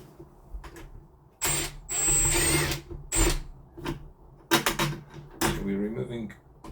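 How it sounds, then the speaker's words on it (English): Screws are removed from a door handle while fitting a Yale Conexis L2 smart lock, giving bursts of whirring power-tool noise and clicks, with short quieter gaps and a voice speaking in between. "So we're removing all the screws."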